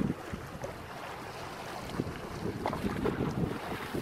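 A Binh Dinh fishing boat painted grey, heard as open-air wind buffeting the microphone over water and waves, with faint scattered knocks and splashes, fairly quiet and without speech.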